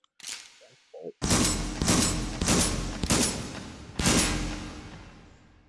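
Virtual shotguns in the H3VR game, a short-barrel pump shotgun and an M1014 semi-automatic, fire five loud close blasts at targets in an uneven rhythm, each with a short ringing decay, after a brief faint click at the start.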